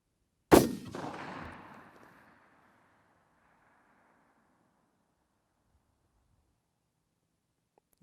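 A single sharp shot from a VPO-114 rifle cracks out nearby at long range practice, followed by a rolling echo that fades over a couple of seconds into silence.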